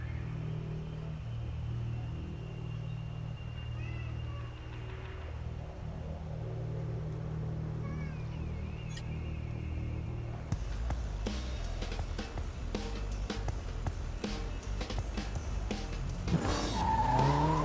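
A Land Rover races in the video game Blur, with a low engine rumble under game music that turns into a busier, louder stretch of revving, tire squeal and crashing effects near the end.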